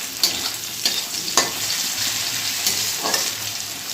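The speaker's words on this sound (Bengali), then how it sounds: "এদিকে পেঁয়াজ ভাজা হচ্ছে" Onion frying in a pan: a steady bright sizzle runs throughout, with a few sharp scrapes and clinks from stirring, close and loud, with no talking.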